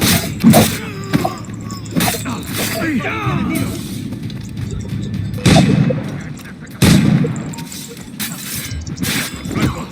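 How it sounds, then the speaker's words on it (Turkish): Heavy gunshots boom out in Assassin's Creed IV Black Flag, a few loud, sharp blasts spaced apart amid combat clatter, while someone talks over the action. "bak silahla sıktı"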